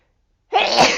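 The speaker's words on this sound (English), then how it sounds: "It took me a minute there to get that sneeze out." A single loud, close human sneeze bursts out suddenly after half a second of silence and trails off briefly.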